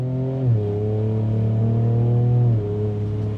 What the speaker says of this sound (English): the exhaust sound, it's peppy